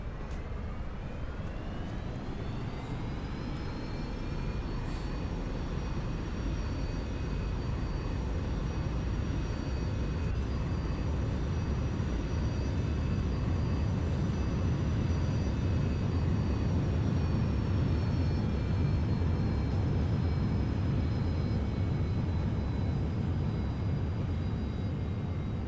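Boeing 747 engines throttled to full for takeoff in the flight simulator X-Plane 11. A steady, loud roar holds throughout, with a whining tone that climbs early on and then stays level.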